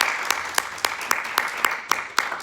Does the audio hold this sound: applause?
yes